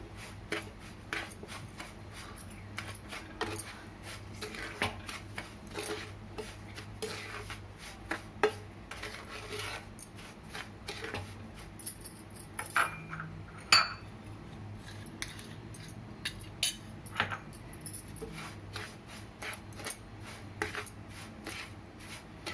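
A spoon stirs sugar powder into a warm rava laddu mixture in a pan, with repeated soft scrapes and light metallic clinks at an irregular rhythm, fairly quiet and close.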